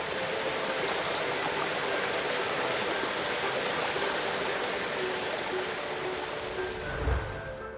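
A Hawaiian waterfall pouring into a lake at its foot, a steady, dense rushing hiss of falling water that fills the whole clip without pause, close and moderately loud, with a brief low thump near the end.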